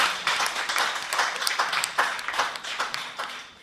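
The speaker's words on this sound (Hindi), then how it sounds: "जोरदार तालियों से स्वागत करें।" Applause from an audience welcoming the chairman of a Hindi haiku poetry gathering, a steady crowd of claps lasting several seconds at moderate volume with no talk over it.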